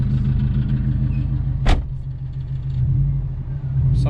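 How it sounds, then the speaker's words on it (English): A Subaru 2.5RS on BC coilovers drives along with a steady low engine and road rumble from inside the car, broken by a brief sharp metallic clunk partway through, consistent with a rattling exhaust. "Some type of exhaust rattle or something."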